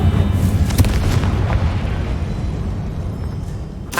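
A Confringo spell explodes in Hogwarts Legacy with a heavy booming blast and rumbling debris that decays over several seconds, followed by a faint sharp pop at the end.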